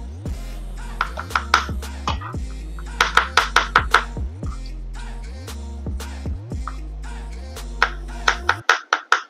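A knife chops rapidly on a board during a creamy chicken ravioli recipe, with bursts of quick, sharp close taps in a steady rhythm and a few heavier knocks at the end, alongside a low tonal hum.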